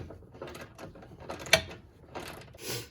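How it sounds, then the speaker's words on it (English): A ratchet tightens a bolt on the lower control arm of a 2000 Toyota Sienna, producing quick irregular mechanical clicks and one sharp metallic snap, close by and fairly quiet, with no speech. "So once I've got this tight with the ratchet, I'm going to let go"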